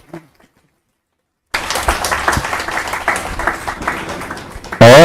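After a brief silence, loud applause breaks out and continues steadily, a large audience clapping together at a spiritual talk.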